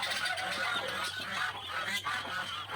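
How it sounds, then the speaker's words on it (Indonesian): A flock of geese honks loudly and without a break as their goslings are taken away. The harsh, overlapping calls go on close by for the whole stretch. "Jadi angsa satu setiap anaknya diambil seperti ini tuh sangat berisik ya teman-teman."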